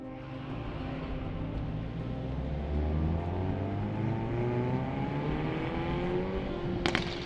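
A Hyundai Veloster N cruises through downtown Chicago, its engine note a steady, fairly loud drone that rises slowly in pitch as it pulls, echoing off nearby concrete walls, with a brief sharp clatter near the end.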